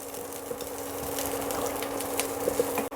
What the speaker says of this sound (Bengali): আর দেবো কিছুটা রসুন কুচি দিয়ে এটা আমি একটু নেড়ে নেব